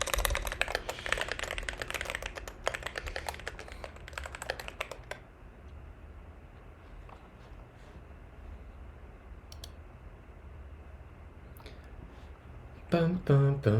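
Rapid computer keyboard typing clatters densely for about five seconds at a home programming desk, then drops to a quiet room hum before a short burst of keys at the end.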